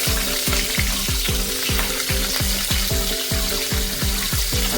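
Green chillies sizzle and crackle in hot oil with mustard seeds and cumin as poha is made, a steady close frying hiss with rhythmic stirring scrapes throughout, no voices.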